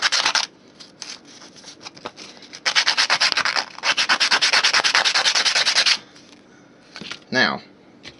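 A cannon part is sanded smooth by hand in bursts of rapid back-and-forth rasping strokes, close and loud, broken by short pauses and a brief handling noise near the end.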